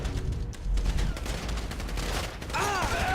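Rapid gunfire from a firefight in the video game GTA 5, loud sustained bursts of shots running throughout, with a voice briefly heard in the mix.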